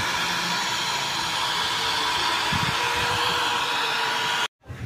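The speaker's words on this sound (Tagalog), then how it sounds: "Kaya gamit lang natin blower sa buhok." A hair dryer blows in a continuous loud whoosh, used to soften decals on a motorcycle, running steadily close by before cutting off abruptly near the end.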